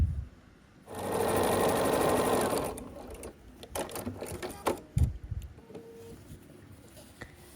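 Sewing machine stitching the final seams of a quilt block, a close steady whir lasting about two seconds, followed by quieter fabric handling, clicks and knocks.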